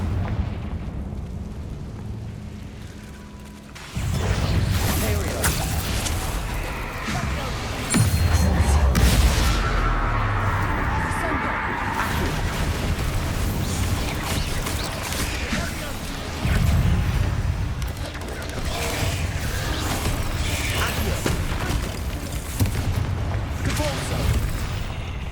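A Confringo blasting curse in the Hogwarts Legacy game sets off loud booming explosions with rumbling, crackling blasts that layer over continuous game noise and music for the whole stretch, and voices can be heard at points.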